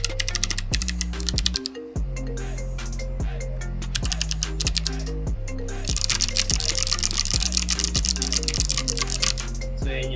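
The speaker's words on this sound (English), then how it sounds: "Proceed na siguro tayo sa typing test, guys, and sa tunog niya kapag meron siyang keycaps" Rapid typing on a Rakk Lam-Ang Pro mechanical keyboard with keycaps fitted, a steady stream of close, crisp clacking keystrokes with no talking.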